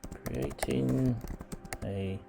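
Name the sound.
typing text on a computer keyboard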